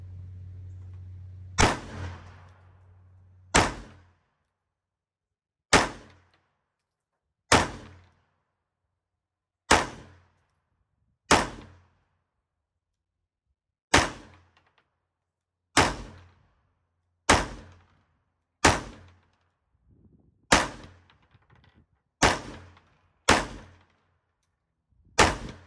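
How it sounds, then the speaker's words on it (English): Eighteen rounds fired through a handgun in a slow, uneven string of sharp, loud reports, each with a quick decay and short pauses between shots, with no talking. "let's see if we can get 18 rounds through it without having a malfunction."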